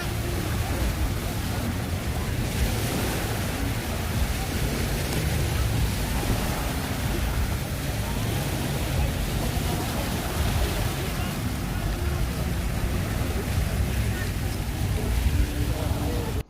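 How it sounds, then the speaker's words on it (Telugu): Speedboats on the sea at Coral Island, Pattaya, give a steady broadband engine and water rush, with wind and surf noise constant throughout and no voices. "ఇవన్నీ కూడా స్పీడ్ బోట్స్ అన్నమాట."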